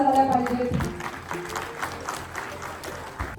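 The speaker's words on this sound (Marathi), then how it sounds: "जोरदार टाळ्या झाल्या पाहिजेत." Applause from an audience at a distributors association felicitation in Pune, steady sustained clapping from a crowd throughout, fairly close, with faint voices and music underneath.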